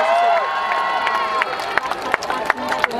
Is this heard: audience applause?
yes